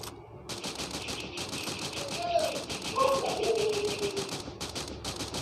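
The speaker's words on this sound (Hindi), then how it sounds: "फालतू गोलियां मत चलो" Rapid bursts of automatic gunfire from an online shooter video game, loud and continuous with brief gaps, while a player's voice talks faintly underneath.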